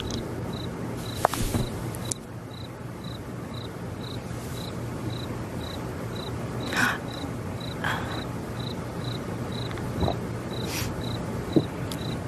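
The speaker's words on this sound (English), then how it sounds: "Crickets." Crickets chirp in a steady, evenly spaced pulse throughout, used as a dramatic silence effect, over a faint low background hum with a few soft bumps.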